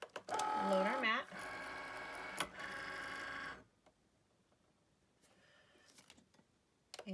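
A cutting machine draws in its cutting mat for a Foil Quill job on cardstock: a whining motor with ratcheting mechanical clicks for a few seconds, then near silence.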